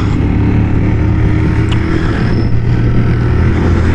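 Honda Super Cub 125 motorcycle engine running steadily while riding, a constant low droning hum with wind rush, close and loud throughout.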